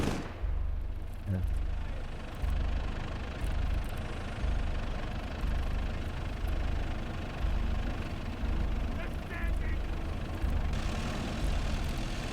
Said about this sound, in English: Switch the engines off.